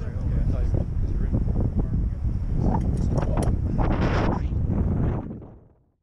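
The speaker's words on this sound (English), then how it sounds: "it gets too windy here to hear what this guy is saying" Heavy wind buffets the microphone in loud low rumbling gusts, with faint voices underneath, before the noise drops away at the end.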